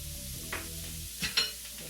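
A packet of veggie crumble sizzles in a warm pot for spaghetti sauce, a steady frying hiss broken by a few brief scraping stirs, with a low tone underneath.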